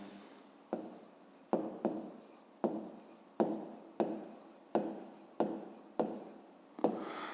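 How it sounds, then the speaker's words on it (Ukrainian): Pen writing a math solution by hand on paper, a run of about nine short scratchy strokes in steady rhythm, close and clear with no talking. "Пишемо швидкість. Віддалення."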